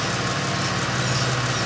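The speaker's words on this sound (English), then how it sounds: "Runs beautiful, nice and smooth. Engine sits like it's standing still." A Ford Falcon engine (BA, BF or FG) idles smoothly on fresh oil after an oil change, a steady close low hum with an even rumble and no voices.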